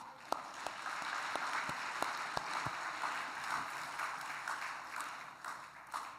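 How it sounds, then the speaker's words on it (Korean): A church congregation applauds during a worship service, a soft, distant spread of clapping with a few sharper individual claps standing out near the start. "우리 박수 한번 해드리십시오"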